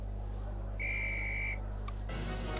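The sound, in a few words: referee whistle in the video game Harry Potter and the Philosopher's Stone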